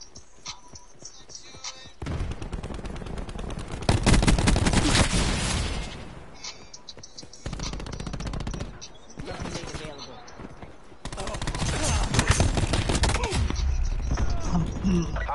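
Call of Duty gunfire comes in dense bursts of rapid automatic shots separated by quieter gaps, loud and close, with a voice talking in places.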